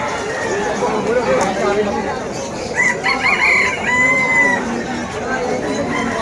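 Bantam chickens at a Malabon pet market cluck and crow in a few bright, drawn-out calls amid steady crowd chatter, with people talking nearby.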